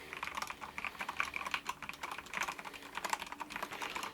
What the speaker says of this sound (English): So for a mechanical keyboard, it's not actually that loud.